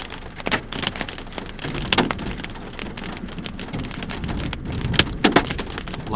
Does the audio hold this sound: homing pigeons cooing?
no